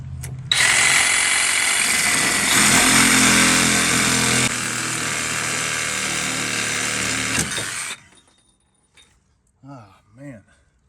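Power tool cutting off a stripped bolt while fitting a Timbren SES suspension on a 2005 Ford F-250, a loud continuous whine and grind running steadily for about seven seconds, then stopping abruptly, followed by faint clinks and a short voice.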